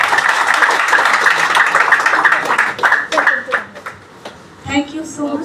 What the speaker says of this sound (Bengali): আমরা একটু করতালি দিতে পারি কি?